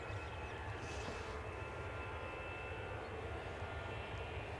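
EasyJet airliner rolling for takeoff at Edinburgh Airport, a faint, distant, continuous engine rumble with a steady high whine running through it.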